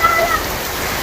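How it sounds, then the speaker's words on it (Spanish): Heavy hurricane rain and wind in El Salvador: a loud, dense, continuous hiss of downpour with gusty roar throughout, a voice briefly audible at the start. "miren cómo está lloviendo de fuerte aquí en El Salvador"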